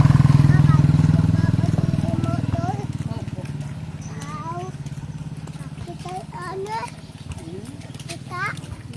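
Motorcycle engine running on a rural land visit, a steady low rumble that starts loud and eases off slightly, under scattered children's voices and adult talk.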